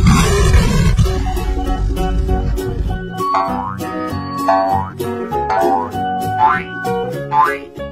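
A deep, rumbling gorilla roar sound effect opens loud and close, then fades into bouncy, cartoonish musical tones.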